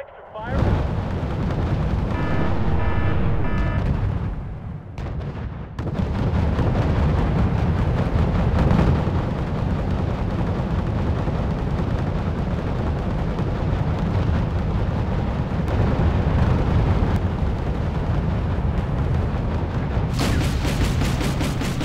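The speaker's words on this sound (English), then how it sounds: "Here's some of the artillery scarring effects you're going to see." Heavy artillery fire in the Wargame European Escalation game gives loud, continuous rumbling booms and blasts that fill a dense, sustained battle din.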